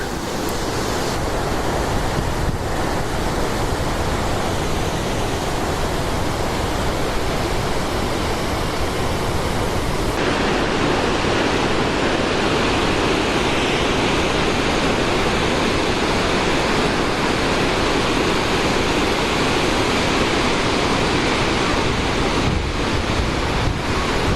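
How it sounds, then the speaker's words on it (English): Victoria Falls roars continuously, a massive, dense, steady wall of rushing water with a wind-buffeted rumble throughout, loud and close. "it has the largest sheet of falling water"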